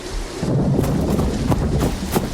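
Steady rain with low rumbling thunder and a few sharp cracks, a stormy sound effect on a dismal night, continuous and fairly loud with no voices.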